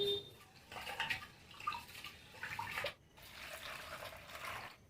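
Basmati rice being washed by hand in a bowl of water, with soft swishing and sloshing that stops briefly partway through and then resumes, close by and fairly quiet.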